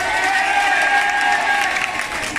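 A large audience at an Elken company event bursts into loud, dense applause and cheering that fills the room continuously from start to finish.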